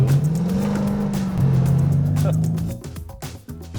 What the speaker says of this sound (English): This car makes some noise.